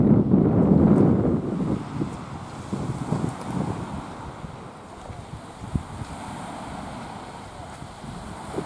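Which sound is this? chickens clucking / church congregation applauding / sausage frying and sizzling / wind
wind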